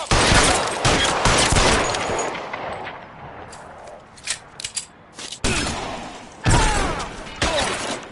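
Gunfire in the video game L.A. Noire, with loud bursts of shots and sharp cracks in the first seconds, a quieter stretch of scattered reports, then more heavy volleys near the end.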